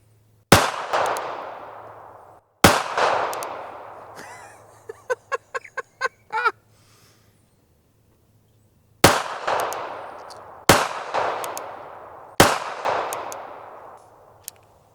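A Smith & Wesson Bodyguard pistol fires single sharp, loud shots, each with a ringing outdoor decay: two spaced shots, a pause, then three more in steady succession, with a brief fluttering noise in between.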